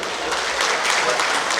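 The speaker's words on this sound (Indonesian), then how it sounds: "mohon berikan tepuk tangan yang paling meriah" Loud, dense applause from an audience at a Gapensi Lebak ceremony in Indonesia, a steady wash of clapping filling the whole short stretch with a voice faintly mixed in.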